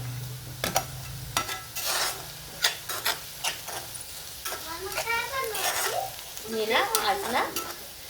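Onion frying and caramelizing in a pan for Maharashtrian whole masoor curry, with a steady sizzle and a spoon scraping and clattering in bursts, close up, while voices talk partway through.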